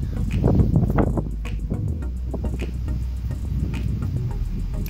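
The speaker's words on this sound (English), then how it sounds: "I apologize for the wind noise," Gusty wind on the Oklahoma plains buffeting close against the microphone, a low uneven rumble with bursts of noise throughout.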